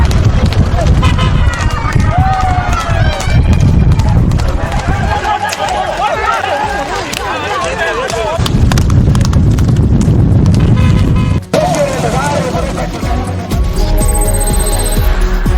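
Horses pulling carts gallop along a road in a race, with continuous hoof clatter, traffic noise and crowd chatter, while a narrator talks throughout.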